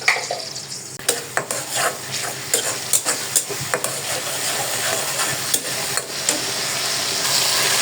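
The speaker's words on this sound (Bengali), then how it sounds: "লবণ দিয়ে এখন মশলাটা ভালোভাবে কষাই নিব" Spice paste with chilli powder, cumin powder and salt sautéing in a pan, a close sizzle broken by frequent sharp scrapes and knocks of a spoon against the metal, no talking.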